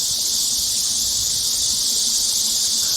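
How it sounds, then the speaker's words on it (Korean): A Korean large brown cicada, Cryptotympana atrata, calls in one continuous, loud, high-pitched drone that never breaks, rasping and piercing with no voices around it. "항공기 소음과도 견줄만 하다는 이 매미 울음 소리는 말매미 울음입니다."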